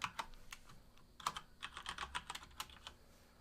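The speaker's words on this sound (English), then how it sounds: "I'm going to type in my password, which is Chrome1." Password keystrokes on a computer keyboard, a quick irregular run of light clicks and taps played back close and clear, with no voices.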